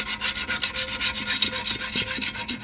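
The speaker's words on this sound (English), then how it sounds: "Scrape all the gunks all around, clean until" Hand scraper rasping gunk off the engine surface of an 08 Hyundai Santa Fe 2.2-litre, a steady run of short, close scraping strokes with no talk.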